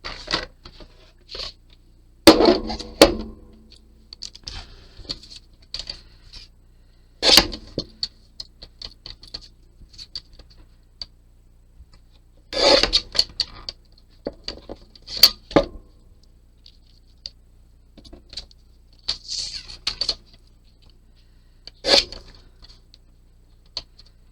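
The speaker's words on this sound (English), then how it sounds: "trim down our sentiment strips" Sharp isolated chops from a paper guillotine trimmer slicing card sentiment strips for a die-cut Christmas card, about half a dozen crisp cuts spaced irregularly across a quiet room, with faint paper handling between them.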